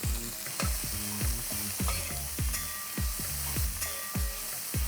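Sliced onions frying in hot oil with bay leaves for an Indian curry, a continuous loud crackling sizzle punctuated by regular rhythmic spatula strokes, close up and without speech.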